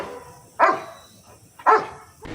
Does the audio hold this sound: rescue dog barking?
yes